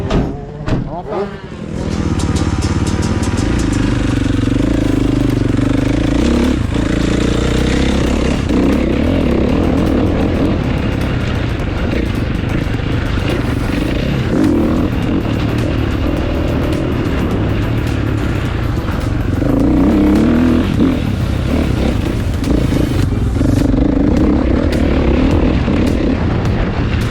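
Motocross motorcycle ridden on the track at Thoiry MX Park, the engine revving and blaring loud and close, rising and falling through gear changes for the whole stretch.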